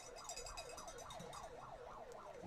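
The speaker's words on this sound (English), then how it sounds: "Somebody in the bleachers has a siren." A handheld siren sounded by someone in the bleachers at a high school football game wails in a steady rising and falling cycle, faint and distant over crowd noise.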